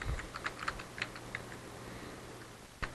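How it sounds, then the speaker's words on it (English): Keys on a computer keyboard are typed in a quick, light burst of clicks, then a pause and one last keystroke, heard close and quiet during database form entry. "and I can type in pediatrician"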